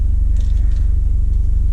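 A BMW 320 GT driven flat out from a standstill, its engine giving a loud, steady low rumble that stays close and constant throughout with no voices over it.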